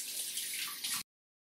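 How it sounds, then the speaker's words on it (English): Water streaming from a cup into a bowl for rainbow cake batter, a brief, steady close pour lasting about a second before stopping abruptly, with no talking. "Water."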